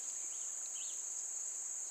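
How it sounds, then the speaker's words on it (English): Outdoors in a garden being readied for tilling, a steady high insect drone runs throughout with a couple of faint, brief bird chirps in the background, quiet and distant. "I hear a few birds and the bees flying around"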